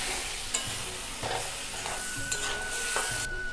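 Spice paste of fennel powder and Kashmiri red chilli powder with a splash of water sizzles steadily in a pan for a Bengali banana-flower and prawn curry, with a spoon stirring and scraping in several close strokes.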